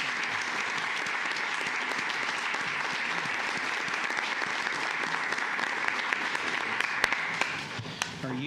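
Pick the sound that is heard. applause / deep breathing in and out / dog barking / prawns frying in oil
applause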